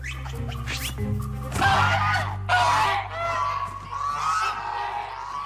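Loud, harsh screaming in several bursts, strained and shrill, filling the clip with background noise and no speech.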